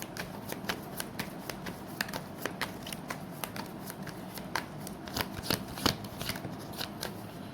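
Tarot cards are shuffled by hand in a rapid, steady riffle of crisp slaps and flutters, close to the microphone, with no talking over it.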